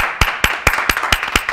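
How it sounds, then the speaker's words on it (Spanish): Slow, steady clapping at a ceremony honouring a doctor, the endocrinology service being named after him: about seven loud, evenly spaced claps close to the microphone over a second and a half. "Un aplauso para él."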